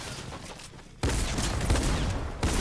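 Shotgun blasts in a video game ring out loud and close, a sharp burst at the start of the stretch then sustained heavy gunfire with another abrupt blast near the end, no talking.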